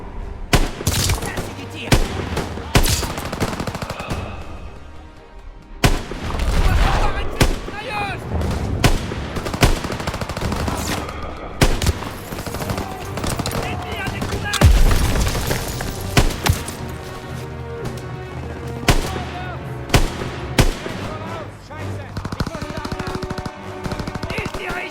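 Gunfire in a World War II video game set at Hürtgen, Germany, November 1944: relentless rifle and machine-gun bursts with booming blasts, loud and near, under shouted French voices.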